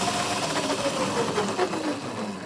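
An electric go kart built from a pedal car accelerates hard, its motor whining with shifting pitch over a loud, continuous grinding rasp from the rear, close up and sustained throughout.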